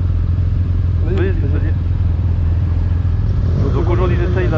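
A BMW R1250RS flat-twin motorcycle rumbles loudly and steadily while being ridden, its low engine drone and wind noise constant throughout, with someone talking over it.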